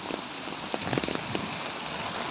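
Steady rain falling on a surface, with a dense patter and a few louder nearby drops standing out.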